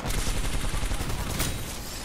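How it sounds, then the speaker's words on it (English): Hip-fire gunshots from Titanfall 2 rattle in a dense, continuous burst of rapid automatic fire with no clear gaps between the shots. "Crazy hip fire."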